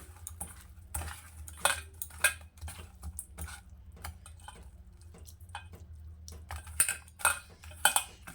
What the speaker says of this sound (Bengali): মাছটাকে আমি এবার একটু মেখে নেব খুব ভালো করে